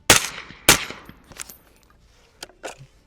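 A .308 rifle fires off the rest of its magazine outdoors at night, giving two loud sharp close shots followed by fainter, more spaced reports and echoing cracks.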